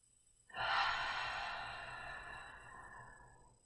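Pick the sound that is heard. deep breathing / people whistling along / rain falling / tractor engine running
deep breathing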